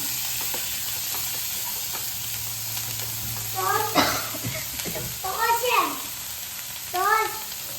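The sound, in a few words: stirring paneer butter masala frying in a pan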